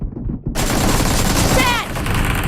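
Rapid bursts of automatic gunfire crackle densely in a PUBG/BGMI match, loud and continuous after a brief quieter start, with a short whine near the end.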